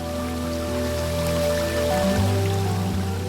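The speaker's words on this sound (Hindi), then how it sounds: "पानी" Water gushes from a rock in an animated Bible story of Moses and the Israelites, a steady rushing, rain-like hiss running throughout with sustained music underneath.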